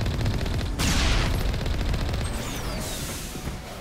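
Enemy trooper gunfire in Mass Effect, a loud, dense burst of rapid automatic shots layered with crackling fusillade, close and continuous, then easing off.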